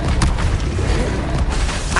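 A deep, rumbling blast from the Incendio fire spell in the Hogwarts Legacy video game, a dense boom with a sharp onset that fills the two seconds and holds steady and loud.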